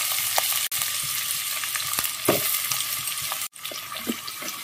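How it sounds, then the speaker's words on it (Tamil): Star anise and then onions sizzling in hot oil for a mutton curry, a steady crackling fry with occasional stirring scrapes and two brief dropouts, close and fairly loud. "இப்போ இதை போட்டு நான் தாளிக்க போகிறேன்."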